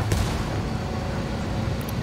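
Ship cannon fire in the Ghost Recon Wildlands video game, a dense low rumbling boom that fills the short stretch, loud and continuous with a faint sharper crack near the start.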